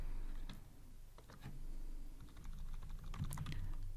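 Typing on a computer keyboard while writing Kotlin code: quiet, irregular key clicks in short bursts, with a brief pause in the middle and slightly denser tapping near the end.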